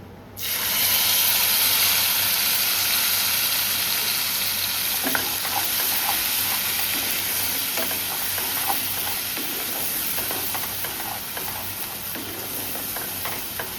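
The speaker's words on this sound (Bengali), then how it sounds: "এবার ভালোভাবে পেস্টটা আগে ভাজা ভাজা করে নেবো, মানে ভালো করে নেড়ে নিতে হবে" Spice paste for a vegetarian paneer dish hits hot oil and sizzles loudly, a constant frying hiss that settles slightly over time, with occasional scrapes and taps as it is stirred in the pan.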